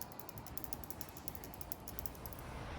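A small battery-powered magnetic machine for swirling potions whirs with a faint, steady mechanical ratcheting buzz and a light rhythmic ticking, quiet and continuous.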